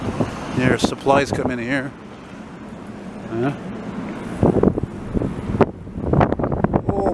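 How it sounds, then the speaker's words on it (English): Strong gusts buffet the microphone on a busy city bike path in Montreal, low rumbling bursts coming and going while someone talks in between. "it's really windy here and that wouldn't be too good for the noise"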